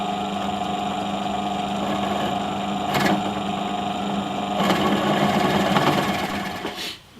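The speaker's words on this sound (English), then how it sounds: "Now I'm going to go through the rest of it with an 8mm bit" A steady high-pitched motor whine from a drill with an 8mm bit runs continuously, with brief bursts of bit noise cutting into wood from a fence, then winds down at the end.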